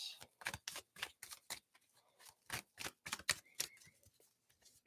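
Tarot card deck being shuffled by hand, a rapid flurry of crisp papery riffles and slaps in irregular bursts, close and moderately loud, with no talking over it.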